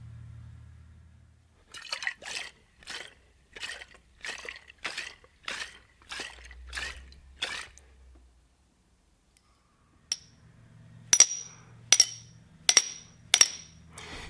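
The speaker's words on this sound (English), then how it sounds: "You can actually hear the glass ringing as it hits the bottom of the tube surface." Water slugs strike the bottom of a glass water hammer toy tube in a series of sharp clacks, first a run of about nine soft knocks, then after a pause several brighter hits that leave the glass ringing.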